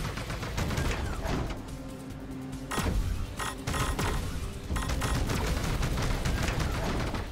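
Rapid bursts of explosive rocket fire and blasts in Panzer Dragoon Remake crackle almost nonstop, loud and dense, with brief lulls between volleys.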